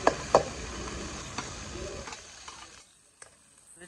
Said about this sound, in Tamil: பூண்டு பேஸ்ட் போடுறேங்க